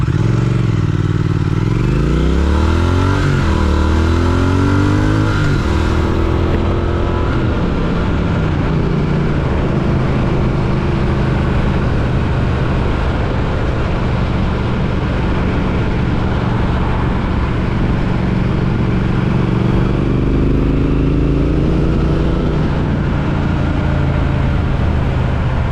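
A Triumph Speed Twin motorcycle pulls hard, its engine note climbing sharply through a fast acceleration, then holding a loud, steady drone with road and wind rumble as the ride continues.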